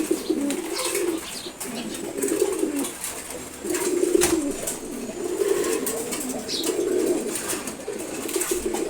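Pigeons coo after their morning feeding, a string of low, rolling, throaty calls repeating close by in bursts every second or two, with no talking.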